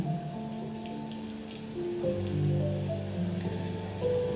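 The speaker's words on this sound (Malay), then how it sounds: "Hujan mencurah turun dengan lebatnya." Heavy rain pours down steadily, a dense wash of falling water that holds for the whole stretch, with a low sustained hum running beneath it.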